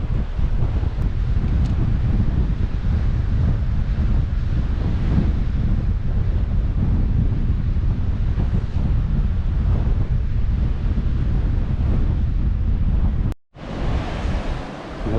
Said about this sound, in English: Rough seas tonight.